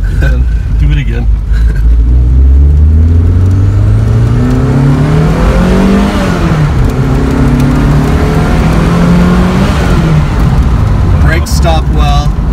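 A 1990 Lancia Delta Integrale accelerates hard under turbo boost, its engine note climbing steadily through the gears, loud and close from inside the car, with occupants talking over it.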